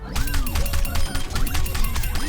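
Rapid gunfire from Bastion wearing a changed-sound skin in the video game Overwatch 2, a dense stream of sharp repeated shots with crashing impact effects, loud and continuous with no talking.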